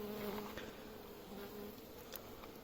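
Honeybees buzz continuously in a dense, steady drone, fairly quiet and close, with no talking.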